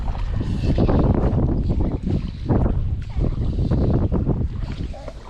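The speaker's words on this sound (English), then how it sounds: "see if this wind dies down a bit" Gusty wind buffets the microphone beside a reservoir, a loud, continuous rumbling roar with surging gusts and no pauses.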